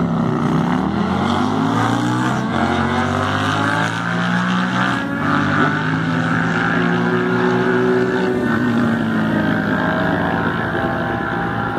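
A Yamaha racing down the strip at Great Lakes Dragway produces a loud, steady engine roar whose pitch climbs and shifts through the run, filling the whole stretch without pause.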